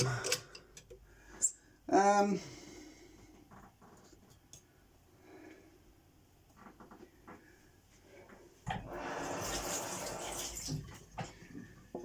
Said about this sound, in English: It'll bubble up.